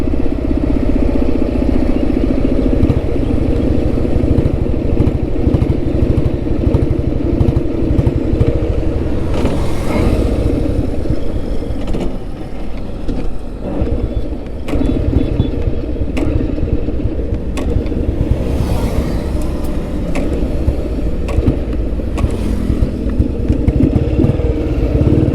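A vintage Royal Enfield Bullet motorcycle engine running steadily after starting, a loud close single-cylinder thump that holds throughout with slight dips in level.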